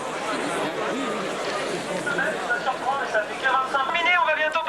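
Crowd of rollerbladers gathered at Place d'Italie in Paris on a Friday night, dense babble of many voices with shouts rising toward the end, close and lively.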